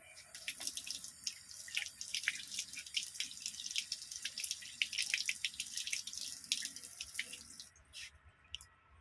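Red plums being washed under a running tap, with a continuous hiss of water over the fruit and splashes into the sink, close and fairly quiet, ending with the flow cut off near the end.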